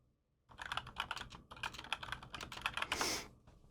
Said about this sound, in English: I didn't even finish typing that before.